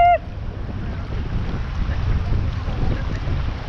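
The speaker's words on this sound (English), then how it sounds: "Here are the really big waves." A boat floats through big waves on the Flathead River, with a steady rush of water and wind buffeting the microphone, loud and close, after a brief tone at the start.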